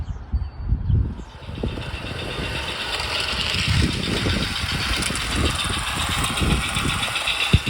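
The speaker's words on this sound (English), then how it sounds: "get my little Broadway Limited engine on here and see if it actually works" Broadway Limited model train locomotive running on an outdoor garden railway in wind, a steady mechanical hum and rattle with irregular low rumbling bursts, fairly close and continuous with no talk.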